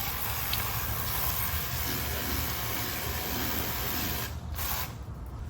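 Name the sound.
cordless vacuum and blower air duster running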